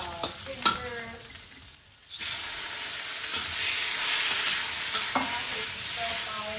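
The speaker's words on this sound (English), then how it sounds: "darken with our soup by frying the gingers." Steady sizzling of ginger frying in a hot pan, with a few clinks of a utensil stirring against the metal.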